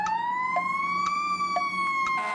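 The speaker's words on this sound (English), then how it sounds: "That's the sound of a fire truck headed to an emergency." A fire truck siren wails steadily and loudly as the truck heads to an emergency, its tone slowly rising and falling, with faint rhythmic clicks under it.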